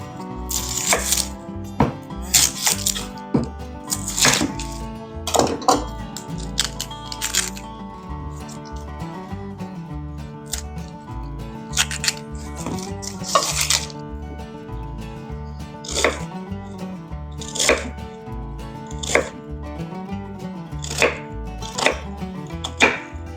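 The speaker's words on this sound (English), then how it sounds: "next I'm going to chop my onion" An onion is chopped on a board for squash fritters in a farm kitchen, with sharp repeated knife strikes in uneven bursts, close and clear, with no talk.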